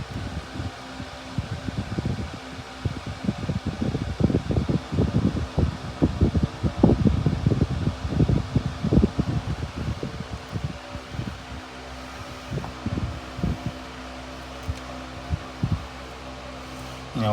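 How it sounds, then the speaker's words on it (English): Air conditioning running indoors during an evening ring-making session, a steady broadband whoosh with a low hum, with tapping and clinking of work over it, continuous and fairly close. "the air conditioning hasn't turned off"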